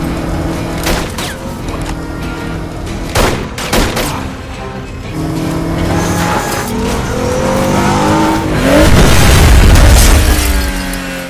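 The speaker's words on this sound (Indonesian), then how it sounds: "Pero yang emosi seketika menabrakkan mobilnya dengan kencang." An action-film car chase ends with one car ramming another: loud engine roar and tire noise, sharp impact booms and crunching, building to a heavy crash near the end.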